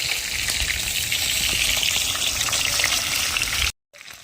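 Chicken pieces for a village-style biryani frying in a pan, a steady loud sizzle and crackle running continuously before cutting out abruptly near the end.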